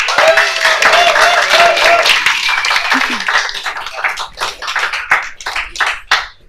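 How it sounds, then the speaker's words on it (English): A concert audience applauds poetry readers, soloists and a small group ensemble with loud, close clapping and scattered voices, thinning out toward the end into separate individual claps. "could you give those guys a round of applause?"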